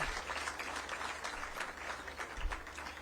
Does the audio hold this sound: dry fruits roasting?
no